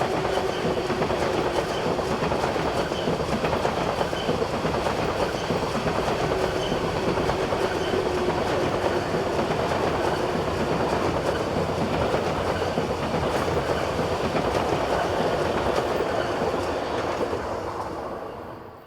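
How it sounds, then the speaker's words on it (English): A pair of Swiss Class 500 intercity units on the Gotthard line north ramp, heading north for Zurich, rushes past with a loud, continuous roar and rail clatter that holds steady before fading at the end. "Class 500 intercity units, such as this pair heading north with a service for Zurich."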